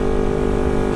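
Carbureted Kawasaki Ninja 250 motorcycle fitted with a Termignoni megaphone exhaust idles loud and steady, a constant throaty drone held close with no talk.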